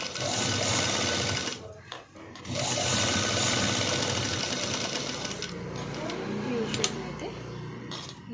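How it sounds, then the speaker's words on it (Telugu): A sewing machine stitches the U shape of a blouse sleeve in a fast, close mechanical whir that pauses briefly and then resumes, with someone talking over it at times. "యూ షేప్ని కూడా నీట్గా స్టిచ్ వేసుకోవాలి"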